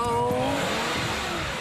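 A car engine revs loudly and steadily, roaring close by with a dense, sustained drone from start to finish and no speech over it.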